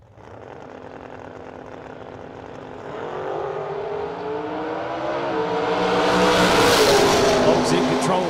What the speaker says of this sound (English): Randy Folk coming up in his 64 Corvette, right side, 589 dial in, taking on John Jones.